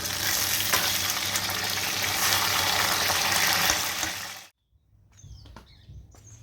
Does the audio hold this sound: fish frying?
yes